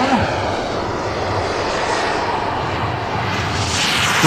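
A jet aircraft lands at an air show, its engine a loud, broad, steady roar with a slow rise and fall, heard from a distance.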